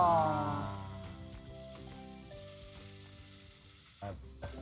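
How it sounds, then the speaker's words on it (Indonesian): Ingredients for seafood tom yum sautéing in a hot pan, a steady close sizzle and crackle with a few stirring clatters toward the end. "Oke yuk kita langsung masukkan, kita tumis Bun."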